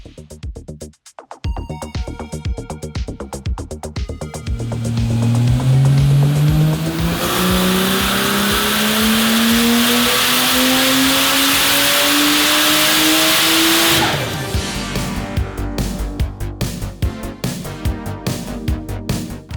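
NOMANG, a boosted car, revs hard on a hub dyno at C&A Auto Fashion in Blackburn, its engine note climbing steadily in a long, loud pull before cutting off, with idle burble before and after.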